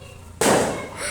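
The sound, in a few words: fireworks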